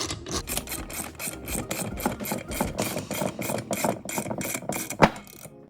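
A 17mm socket wrench presses down on a valve spring during a teardown of a 2011 Ford Mustang Coyote engine, giving a steady, close run of scraping, rasping metal strokes with one sharper clack near the end.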